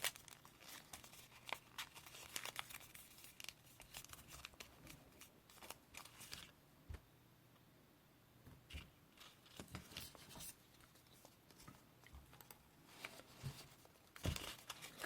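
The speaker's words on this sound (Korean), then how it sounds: "그 다음 까만색 가져오시고 배를 반 접어주세요" Black paper being folded in half while making an origami combat knife, with close crinkling, rustling and soft creasing sounds coming in irregular bursts, a quieter stretch midway, and a sharper snap near the end.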